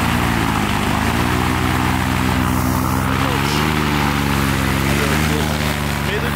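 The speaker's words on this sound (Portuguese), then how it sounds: "vamos dar uma esquentada no motor pra já voar" A brand-new engine with a propeller, on its very first run, warms up before flight with a loud, steady droning buzz that holds nearly constant in pitch, close to the microphone.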